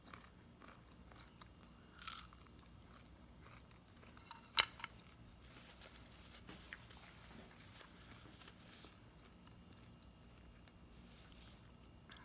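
Someone bites into a thin, crispy, cheese-stuffed gordita, with a couple of sharp crunches standing out and soft chewing noises in between, close and fairly quiet.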